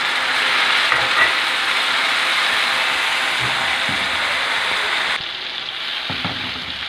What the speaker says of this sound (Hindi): और अब इसमें चली गई टमाटो प्यूरी।